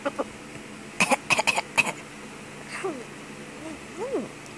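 A child coughs in a quick burst of several sharp coughs clustered together, close and clear, followed by some faint vocal sounds in a quiet indoor room.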